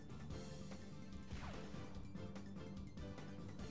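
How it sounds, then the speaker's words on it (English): A Shadow Rush attack lands in Pokemon Colosseum with a crunching smash and a swooshing sweep in the middle of the clip, set against continuous battle music. "Just use a Shadow Rush."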